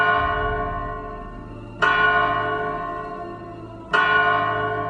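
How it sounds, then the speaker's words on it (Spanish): Church bells ringing the third call to Mass, two resonant strikes spaced about two seconds apart, each blooming loudly and decaying slowly with a long ringing tail, heard alone without voices. "las campanas tocaron la tercera llamada."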